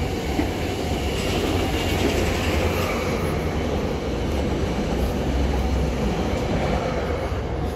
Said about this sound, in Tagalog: May train dito sa kabilang side.